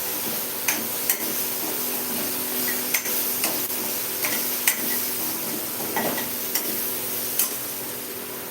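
Sambar with capsicum, tomato and moringa is stirred in a pot over a steady sizzling simmer, with sharp spoon taps against the metal rim every second or so.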